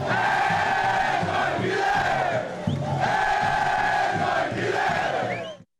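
Joinville football supporters fill a packed arena at a cup final, chanting and roaring together in a loud, sustained mass sound with rhythmic pulses, continuous and close before cutting off abruptly at the end.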